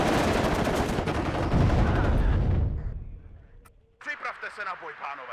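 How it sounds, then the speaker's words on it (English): Machine gun fire in the Cold War strategy game WARNO rattles loud and continuous for about three seconds, then fades out, after which someone talks. "Machine guns annihilating them though."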